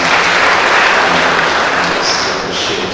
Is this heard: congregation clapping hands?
yes